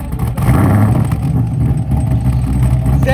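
Holden VF2 Commodore SSV Redline sedan, a tuned 850 hp V8, starts and settles into a loud, steady, rumbling idle close by with no talk over it.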